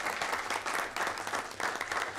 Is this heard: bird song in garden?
no